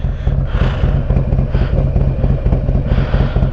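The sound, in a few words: Harley-Davidson Road Glide Special motorcycle riding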